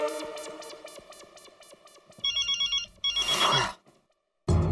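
An unanswered telephone rings over and over, with steady repeated bell bursts under a musical background, then a louder rustling burst and a short pause before another loud sound at the end.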